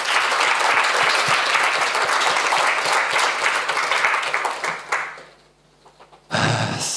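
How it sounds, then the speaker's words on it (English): Conference audience at an AICA International congress gives itself a round of applause: loud, dense clapping that thins and fades toward the end, a brief near-silence, then a sudden burst of noise. "please give yourselves a round of applause"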